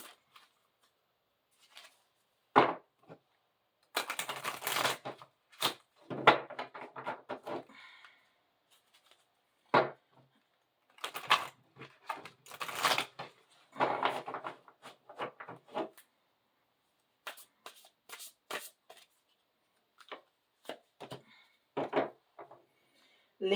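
A large deck of mediumship training cards being handled, with repeated bursts of shuffling, riffling and sliding across a surface, separated by short pauses, close and moderately loud.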